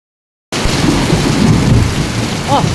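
After a moment of silence, heavy rain roars in steadily with low rumbling thunder rolling underneath, loud and close.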